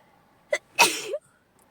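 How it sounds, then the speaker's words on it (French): A single sneeze up close: a quick sharp intake followed by a forceful burst, then quiet. "Je vais éternuer."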